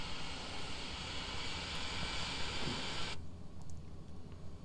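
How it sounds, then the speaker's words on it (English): An airplane in a flight simulator game taxis along old runway 11, its engine giving a steady, even drone that stays constant throughout, with the brighter hiss cutting away partway through. "This is where we taxi down the old runway 11."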